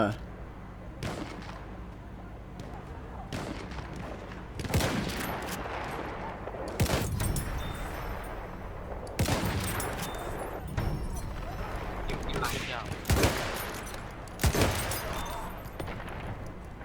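Rapid gunfire in Battlefield 1, repeated sharp bursts and volleys scattered throughout with booming impacts, loud against continuous battlefield rumble, while someone talks over parts of it.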